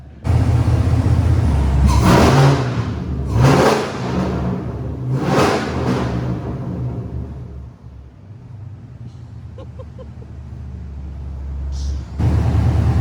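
Camaro ZL1 fitted with Kooks long tube headers and a new intake, revving hard on a dyno: loud V8 engine roar rising in three strong surges, then settling into a steady rumbling idle before swelling again at the end.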